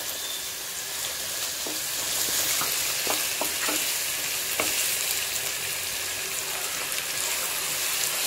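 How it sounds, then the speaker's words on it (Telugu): Onions, green chilies and garlic sizzle steadily in a hot pan, a continuous broadband crackle with several sharp scrapes and clinks of a spoon stirring through them, close and loud, with no talking. "బాగా కలిపి వెల్లుల్లి వేసిన తర్వాత ఇలా బాగా ఒక నిమిషం పాటు బాగా ఇలా కలిపి"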